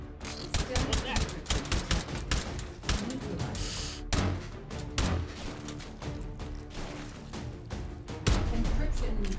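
Rapid bursts of gunfire loaded with armor-piercing incendiary rounds in the VR shooter Hot Dogs, Horseshoes & Hand Grenades, loud and dense throughout with heavy low thumps and a strong final burst, a voice speaking between shots.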